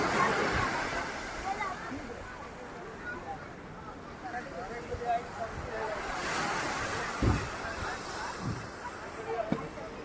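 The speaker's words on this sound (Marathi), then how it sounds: "हा बघा, आता भरती आले समुद्राला" Sea surf rolls in at high tide along the shore, a steady washing hiss mixed with wind buffeting the microphone, with a few soft thumps and people talking over it.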